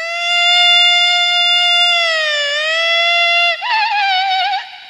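A voice imitates a VIP convoy car siren on stage at a Bihu comedy show, a steady wailing tone that dips and rises, then warbles rapidly before cutting off, loud and alone.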